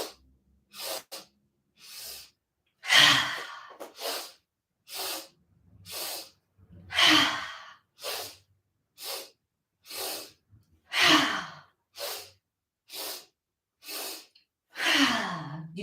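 Rhythmic breathing during an exercise routine, with a steady series of close, airy inhales and exhales, some louder and sharper, repeating about once per second across the whole stretch without talk.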